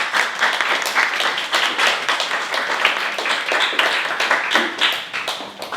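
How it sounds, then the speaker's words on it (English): A conference audience applauds for an entire stretch, a dense, steady wash of many hands clapping at close range with no talk over it. "A round of applause,"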